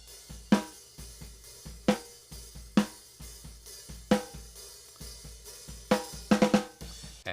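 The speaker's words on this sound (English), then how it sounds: "So here is our snare drum." A snare drum is recorded with top and bottom microphones, an SM57 and a Sennheiser 441. Sharp, crisp hits land at a slow, steady pace, then a quick flurry of strokes near the end, close and dry, with no voices.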